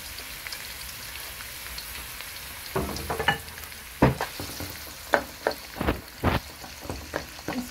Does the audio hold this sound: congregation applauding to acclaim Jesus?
no